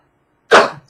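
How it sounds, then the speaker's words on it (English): One loud, sudden human sneeze bursts out close by after silence, then fades quickly, with no speech around it. "I had to sneeze and I couldn't hold it back"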